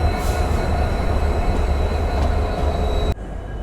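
A freight train rumbles past nearby near Kulem railway station on the Goa to Belagavi line, with a heavy low roar and a steady metallic whine, then the sound cuts off abruptly.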